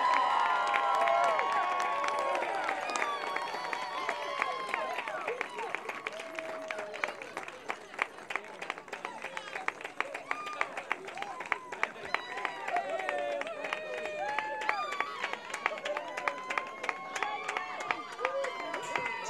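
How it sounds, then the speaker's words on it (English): Audience applause and cheering for a performance, a dense continuous mix of clapping, shouts and crowd noise, with voices calling out over the top. "Give a round of applause for our very own Chief Librarian, Catherine the Great"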